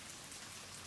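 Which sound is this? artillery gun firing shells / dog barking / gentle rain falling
gentle rain falling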